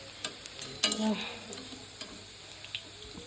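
Papad and fritters fry in hot oil with a faint, steady sizzle, broken by occasional clicks and scrapes of stirring and utensils nearby, and no talk.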